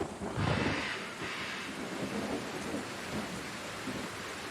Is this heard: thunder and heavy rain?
yes